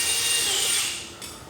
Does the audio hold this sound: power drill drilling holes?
yes